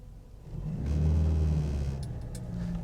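A Vauxhall Cavalier mk2 engine hums low inside the cabin, rising into a firmer rumbling pull as the car accelerates toward third gear, then easing slightly.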